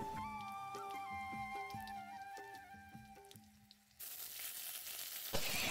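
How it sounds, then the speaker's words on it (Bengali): A few steady musical tones ring out, then a loud burst of spices and green chillies sizzling in hot oil in a wok takes over, hissing and crackling close by. "কড়াইতে কিন্তু আমি এখন সম্বারা দিয়ে দেবো।"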